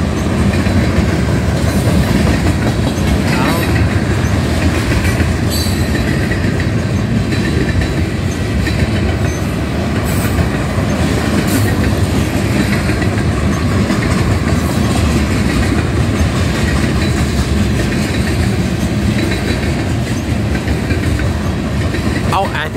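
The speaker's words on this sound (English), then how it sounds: "I'm hearing the each wheel like going over that joint on the tracks" A long Union Pacific freight train rolls steadily past at a road crossing, loud and close, its wheels clacking rhythmically over rail joints in a continuous rumble.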